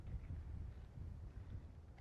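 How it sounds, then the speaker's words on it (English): Wind gusts at Ayers Rock in the Australian outback, a low steady rumble buffeting the microphone, faint and continuous with no voices. "Getting really windy now."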